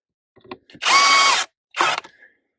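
A power drill drives screws back in with two short whirring runs, the first longer, a few faint clicks and taps around them, close and otherwise quiet.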